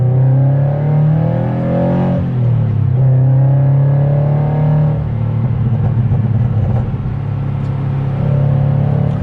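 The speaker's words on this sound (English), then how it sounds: "Do a quick acceleration" A Subaru BRZ sports car accelerates, its engine note rising in a loud, close, continuous drone with no voices.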